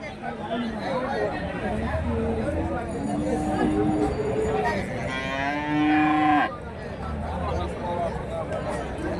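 Cattle and calves low repeatedly at a busy weekly cow market in Karimangalam, Dharmapuri district, with several drawn-out moos at mid distance over a constant crowd murmur and nearby chatter.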